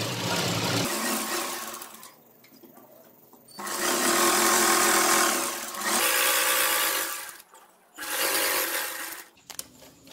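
A sewing machine stitches the side seam of ladies' pants in three long, loud whirring bursts separated by quiet gaps for repositioning the fabric.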